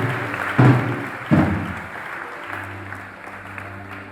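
A church congregation at a Sunday worship service bursts into applause and acclamation in two strong surges, followed by sustained background noise with voices mixed in.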